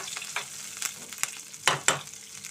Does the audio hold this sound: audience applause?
no